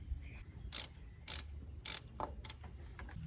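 Ratchet wrench working a 10mm bolt loose on a 2016 Jeep Cherokee Sport during a thermostat replacement, with four short bursts of rapid clicking separated by pauses and a few light metallic taps, close and clear.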